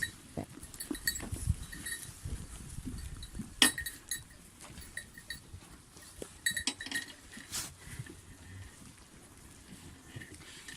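Goats feeding among sheep in a barn make soft, irregular munching and rustling, with scattered clinks and knocks, some louder near bumps, and occasional faint animal noises.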